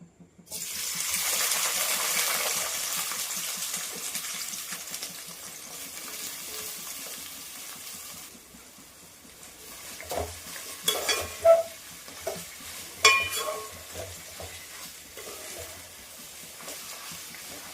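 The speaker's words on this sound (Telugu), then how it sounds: "ముందుగా ఈ విధంగా చేసి పెట్టుకున్న కాకరకాయ ముక్కల్ని వేసుకుందాము." Pieces of bitter gourd go into heated oil and fry with a steady broadband sizzle, loud at first and then settling, with stirring clinks and scrapes toward the end.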